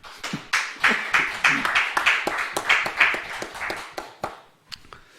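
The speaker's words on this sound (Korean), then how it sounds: "자, 하나님께 영광의 박수 올려드리겠습니다." A church congregation at a Friday late-night prayer meeting claps in praise to God, a rhythmic run of individual hand claps that is fairly close and moderately loud, easing off toward the end.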